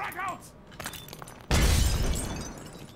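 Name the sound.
grenade explosion in a first-person shooter video game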